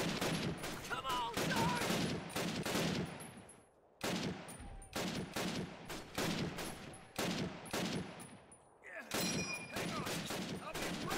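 A light machine gun rattles in Call of Duty: United Offensive, firing several long, loud bursts separated by brief pauses.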